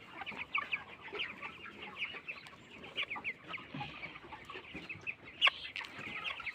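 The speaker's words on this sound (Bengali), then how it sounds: "এখানে হচ্ছে 1000 ব্রয়লার মুরগি, এগুলো হচ্ছে 1000 ব্রয়লার মুরগি" About a thousand broiler chickens in a poultry shed keep up a constant, dense murmur of clucks and peeps, with a few sharper calls standing out from the steady flock noise.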